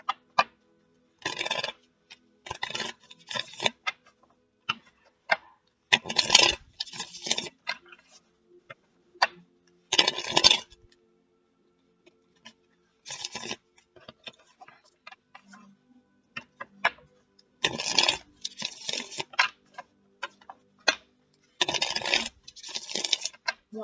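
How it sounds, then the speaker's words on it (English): Tarot cards are shuffled in repeated crisp bursts of riffling and slapping, several close-up clusters separated by short pauses and scattered soft clicks. "One more shuffle, and then I'll cut for you"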